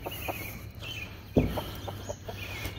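A backyard chicken near a trap set for predators gives soft, short clucks, with one louder sharp note partway through amid quiet outdoor ambience.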